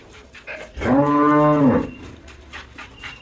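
A Friesian dairy cow lets out a single long, loud moo lasting about a second, with quiet background noise before and after.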